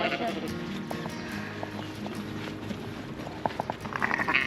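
Sheep and lambs on a farm during lambing season bleat now and then at a moderate distance, over a background of outdoor noise, with occasional people talking nearby.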